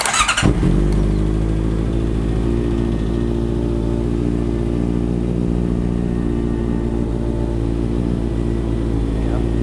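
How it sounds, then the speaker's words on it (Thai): A Honda CBR650R motorcycle engine cranks and catches, then settles into a loud, steady idle with an even low rumble close by. "เราจะสตาร์ทเครื่องยนต์เนาะ"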